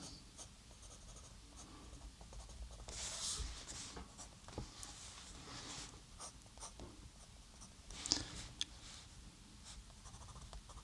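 Graphite pencil shading the wheel arch of an Alfa Romeo 33 Stradale drawing on toned paper, a quiet continuous scratchy rubbing with a few sharper strokes near and faint, no talking.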